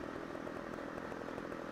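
Chainsaw cutting wood in a video game set in rural Italy, a steady, loud buzzing drone that runs unbroken and alone, with no voices over it.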